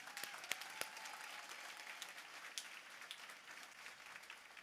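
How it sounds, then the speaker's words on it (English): Applause fills a keynote hall at a real-estate conference: a broad, continuous wash of clapping from a large crowd heard at some distance, with a few sharper nearby claps standing out. "another giant round of applause for this"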